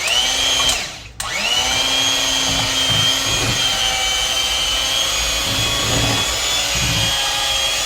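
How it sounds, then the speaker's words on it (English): Cooked sweet potatoes stirred and whipped in a bowl with an electric mixer for pie filling: a loud, steady whirring motor drone with a brief dip, alongside faint scraping and knocking. "now what I'm actually about to do is stir them so I can actually get these strings up out of here"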